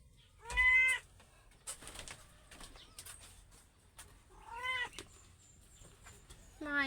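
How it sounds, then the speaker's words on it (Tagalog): Newborn kittens give several thin, high, wavering meows, some in quick pairs, separated by quiet gaps with faint rustling and soft background noise. "Ayun ho, bagong panganak. Pusa na yun oh."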